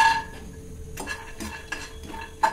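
Peanuts and sesame seeds dry roasting in a pan, with a spatula scraping and clinking against the metal at intervals over a soft steady background hiss.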